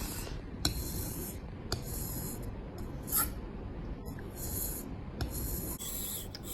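A kitchen knife drawn back and forth over a sharpening stone at a 20-degree angle, making a soft, steady rasping and scraping with faint high strokes over a low background hum.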